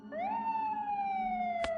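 A police car siren sweeps up sharply, then holds a high, slowly falling wail. It sounds moderately close and is heard alone, with a short burst of noise near the end.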